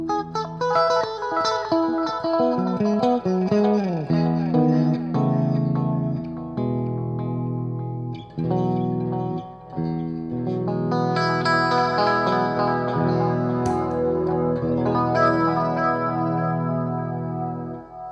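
Electric guitar played through Lovepedal modulation pedals, including a BeardsMan Bi Chorus and a Rubber Chicken envelope filter, gives a sustained, shimmering chorus-and-delay tone with melodic notes and chords ringing continuously, alone and fairly loud.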